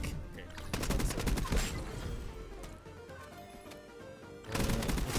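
Rapid automatic fire from a Voyak KT-3 rifle in Call of Duty rattles in dense, loud bursts, thins to a quieter stretch, then erupts again near the end.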